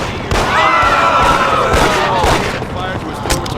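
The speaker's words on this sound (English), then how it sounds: "There's a fireworks display in here." Fireworks display in the Mafia video game, with a dense, continuous spread of crackling bursts and whistling rising tones at close range for several seconds, with scattered sharp pops near the end.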